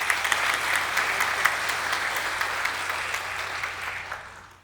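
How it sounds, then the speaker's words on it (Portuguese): Audience applause at a leather industry presentation, a dense steady clapping from a crowd that holds for several seconds, then thins and fades out near the end. "Uma salva de palmas"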